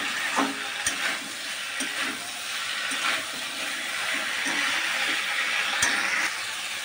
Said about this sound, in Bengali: এভাবে আমি কষাবো কিছুক্ষণ।